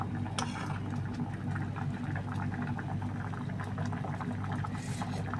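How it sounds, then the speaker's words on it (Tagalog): Tofu soup with egg boiling in a pot, a steady close bubbling and popping simmer that carries on evenly with no voices. "Diba kumukulo na siya?"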